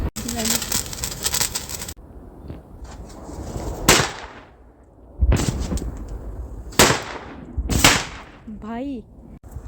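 Large Diwali firecrackers burst during a family celebration in Himachal, with several loud, sharp explosions spaced a few seconds apart, each followed by crackling decay. Voices shout and talk between the blasts.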